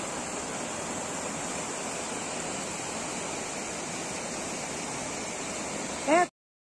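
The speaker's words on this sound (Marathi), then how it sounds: "इथून धबधबा पडत आहे" A distant waterfall at Harishchandragad, Maharashtra, hidden in fog, roars in a steady, even rush that continues unchanged, then cuts off abruptly after a brief sharp sound near the end.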